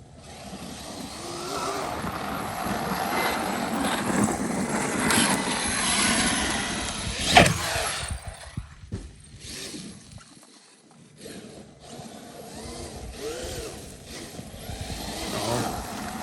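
A Traxxas X-Maxx RC car fitted with PR Racing mod 1.5 gears drives under heavy throttle, its electric motor whining and roaring in uneven bursts with clattering knocks, moderately close.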